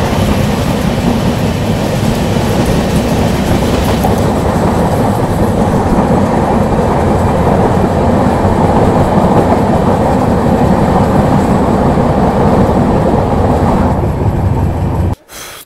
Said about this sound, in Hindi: ट्रेन हो जाएगी गायब धुंध में, थोड़े से आगे जाएगी दिखेगी भी नहीं हमें ट्रेन